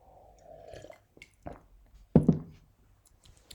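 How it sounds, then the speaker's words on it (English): Someone drinks water up close, with soft wet sips and swallows and a couple of louder clunks, as if a cup or bottle is set down, in an otherwise quiet room. "Let me just drink some water."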